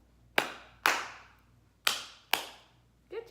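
Four crisp, loud hand claps in a quiet room, evenly spaced in two pairs, each with a short ringing tail, with a faint voice starting at the end.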